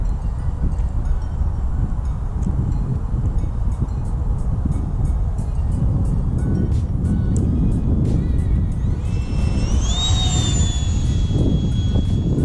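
Lippisch P.15 RC model plane with a 64mm electric ducted fan on a 4S battery, a steady whooshing fan whine under heavy wind buffeting, with a rising, sweeping pitch as it passes near the end.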